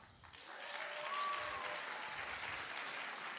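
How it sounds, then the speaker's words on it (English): Faint, steady applause from an audience for the band at a school graduation ceremony, a soft even wash of clapping swelling slightly after the start. "please, a round of applause for the band."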